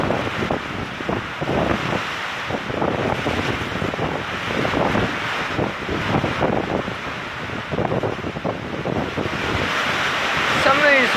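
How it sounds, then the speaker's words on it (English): A severe thunderstorm brings very heavy, pouring rain and strong gusting wind in a loud, continuous roar with surging gusts. A voice speaks briefly under the noise. "It's pouring down rain."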